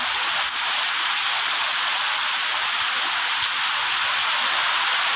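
Steady, dense rain falls continuously, a loud, even hiss of drops striking surfaces with no pauses and no voices over it.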